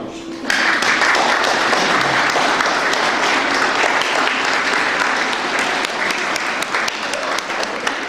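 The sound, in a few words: audience applause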